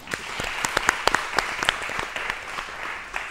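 An audience at a gathering applauds with crisp, distinct individual claps, moderately loud and fairly close, sustained for a few seconds without much talk.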